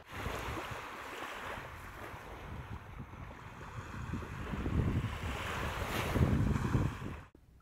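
Waves wash onto the main beach at Cayo Costa under gusty wind buffeting the microphone, a continuous rumbling surf that swells louder toward the end before cutting off.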